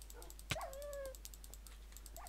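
A Minecraft dog, a tamed wolf, gives one sharp yelp followed by a short whining whimper over steady game background noise. A faint second whine comes near the end.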